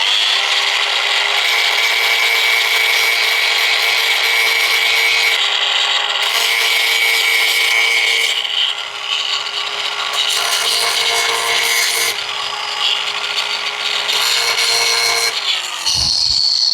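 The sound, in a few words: grinder removing bits from campervan roof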